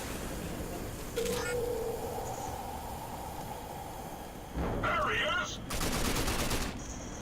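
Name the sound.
gunfire from the video game RAGE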